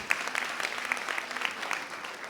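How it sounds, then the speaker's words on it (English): Audience applause after a conference talk: steady, fairly quiet clapping from a crowd with dense overlapping claps throughout and no voices standing out. "Okay, if there are no more questions, we can applaud once more Mary."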